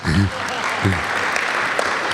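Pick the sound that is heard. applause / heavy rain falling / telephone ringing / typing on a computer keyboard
applause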